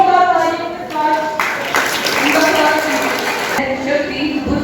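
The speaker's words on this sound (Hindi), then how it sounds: "जोरदार तालियों के साथ" Loud applause and clapping from an audience at a Sanskrit week event, steady and dense for several seconds, with a speaking voice running underneath it.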